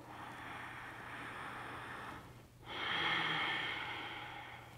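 Long, hissing yoga breaths are drawn through a constricted throat, a soft ocean-like rush that breaks briefly, then swells louder on the next breath, close and alone.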